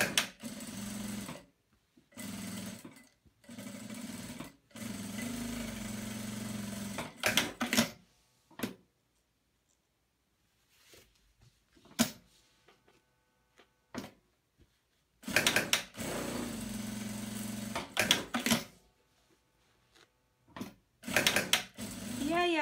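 A sewing machine with a walking foot quilting fabric, running in several steady bursts separated by pauses, close and fairly loud, with a little handling noise between runs.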